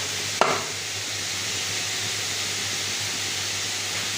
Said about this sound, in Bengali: মাছগুলো ভাজবো।